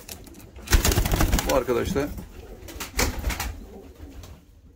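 A pair of Arab post pigeons, one male and one female, cooing softly in repeated low burbling phrases close by, with someone talking over them.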